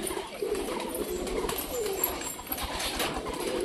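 Pet pigeons coo in a steady, close murmur of low throaty calls, overlapping and continuing throughout, with no talk.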